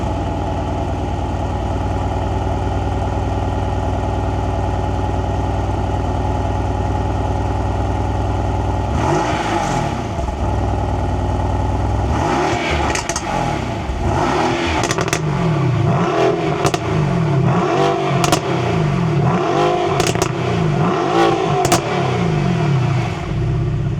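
Mercedes-AMG GT R with baffled sport exhaust: a low steady idle, then loud throttle blips and revs in repeated sharp bursts, close up and alone.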